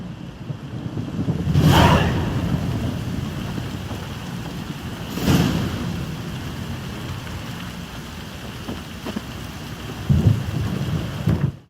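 Steady heavy rain pours throughout in the video game The Witcher 3, with thunder rumbling in three rolls, the loudest near the start and end.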